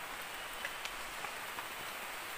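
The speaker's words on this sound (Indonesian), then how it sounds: "hujannya makin terus" Heavy rain pours steadily on a mountain, a dense, continuous wash of drops hitting surfaces at close range with no voices.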